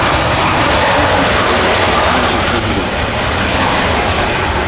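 An Antonov An-178 transport aircraft with a pair of turbojets roars steadily overhead, a loud, continuous broadband engine noise that does not let up.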